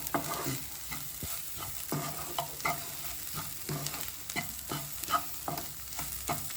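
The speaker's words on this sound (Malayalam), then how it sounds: "Black beef റോസ്റ്റാണ്." Black beef roast frying in a pan, a continuous close sizzle broken by regular scraping stirs of a spoon through the meat, steady and moderately loud with no talk.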